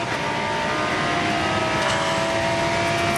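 Race car engine at full song during the Bathurst 12 Hours endurance race, a steady loud roar with high harmonic whine held throughout, no voices over it.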